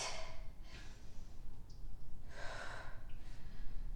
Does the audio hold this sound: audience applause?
no